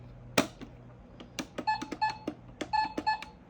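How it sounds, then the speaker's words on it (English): A Bluey toy cash register gives a series of short electronic beeps and clicks as buttons are pressed, several quick tonal chirps in an uneven rhythm, close and fairly quiet. "The cash register. Okay, how many sounds does it have?"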